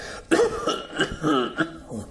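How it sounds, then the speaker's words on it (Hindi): A person demonstrates a dry cough, giving several short sharp coughs in quick succession, close and loud with brief pauses between bursts. "अगर आपको सूखी खांसी हो रही है, जैसे ऐसे"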